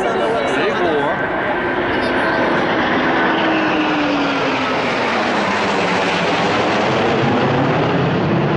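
A loud Rafale military jet roars past in a long sweeping flyover at the Paris Bastille Day parade, its engine noise filling the air with a slowly shifting pitch, voices faintly under it.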